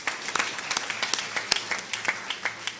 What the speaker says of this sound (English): I suppose they deserve applause.